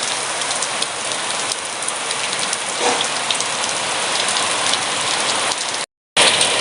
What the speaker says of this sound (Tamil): ஸோ மழை பெஞ்சிட்ருக்கு.